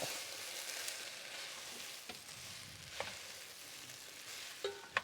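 Beans frying in a pan with mustard oil give a steady, faint sizzle, broken by a few brief clinks and stirring scrapes near the end.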